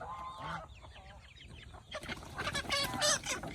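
Chickens cluck in an outdoor forest setting, with repeated short calls close by that grow louder and busier in the second half, and no talking.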